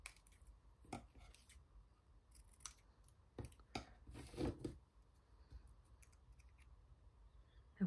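Scissors snip through small scraps of craft paper, a few quiet, separate cuts and rustles spaced apart in a calm room, close and faint, with no voices.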